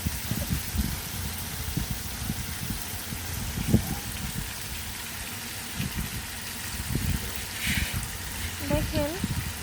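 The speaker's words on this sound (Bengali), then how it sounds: "এখন সব কিছু ভালোভাবে আবারও নেড়ে চেড়ে নিচ্ছে।" Cumin, cardamom, cinnamon and bay leaf frying in a pan are stirred, giving a steady close sizzle with scraping and clatter throughout, ending in a few brief vocal sounds.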